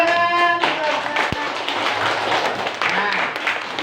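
Students clapping in a classroom during a lesson on the holy books, a short, moderately loud patter of hands, with a voice heard at the start and again briefly near the end.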